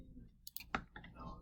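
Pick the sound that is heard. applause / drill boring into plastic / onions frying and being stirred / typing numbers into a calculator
typing numbers into a calculator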